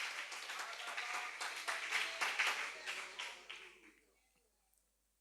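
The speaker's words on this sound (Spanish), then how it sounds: "Denle fuerte ese aplauso a nuestro gran Dios" A church congregation applauding for God during a sermon: a burst of clapping with distinct sharp claps, building and then fading away to near silence by the end.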